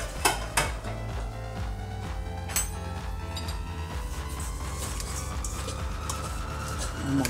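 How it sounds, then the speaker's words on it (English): Chopped vegetables tipped into a bowl, with clattering dish and utensil knocks, a couple of louder clanks near the start and a steady background hum throughout. "So I'm gonna put all this in a bowl, all of my vegetables."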